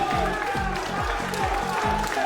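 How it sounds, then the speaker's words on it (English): A darts crowd roars with sustained cheering and applause at a tournament finals night, a dense, continuous wall of noise with rhythmic clapping pulses running through it throughout. "Just listen to that crowd."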